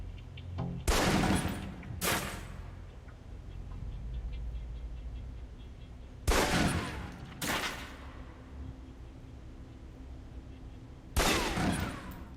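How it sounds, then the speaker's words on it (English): Pistol shots fired at a firing-range target in the video game Alpha Protocol: three sharp reports spaced several seconds apart, each followed by a second crack, over a low ambient hum. "Equip the pistol, then aim down range and take some shots at the target."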